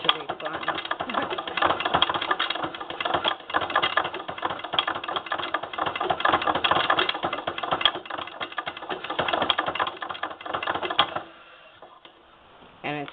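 An 1872 Wheeler & Wilson antique sewing machine running fast while winding a bobbin, a dense, continuous close mechanical clatter that cuts off near the end, leaving quiet with a faint click.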